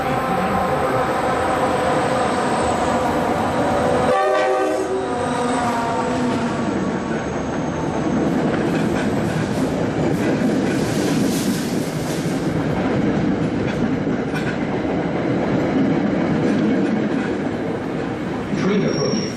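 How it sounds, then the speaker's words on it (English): A commuter train pulls into Route 128 station at rush hour, its loud rumble and rail noise filling the platform throughout while a recorded platform announcement repeats over it. "Train approaching. Please remain behind yellow line."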